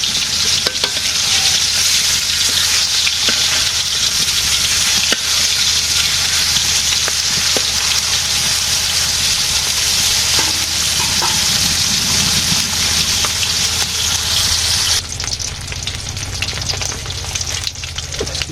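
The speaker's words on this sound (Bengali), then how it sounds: "মাছ ভাজি হয়ে গেছে" Pieces of fish frying in a pan in a Bangladeshi village kitchen, a steady loud sizzle that carries without a break, with stirring scrapes over it and a slight drop in intensity near the end.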